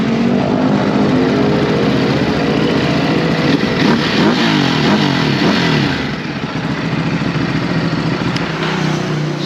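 A Honda Fireblade motorcycle with its stock exhaust idles loudly up close, then its engine is blipped in several quick rising revs before settling back to a steady rumble.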